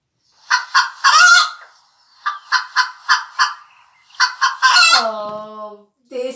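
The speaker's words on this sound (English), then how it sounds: "It's the chicken, of course." Recorded farm chicken calls played for a listening game: clustered rhythmic clucks in three bursts, the last rising into a drawn-out squawk, loud and close with no talking.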